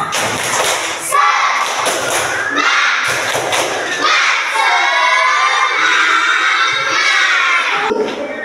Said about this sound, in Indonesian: kita tepuk semangat semuanya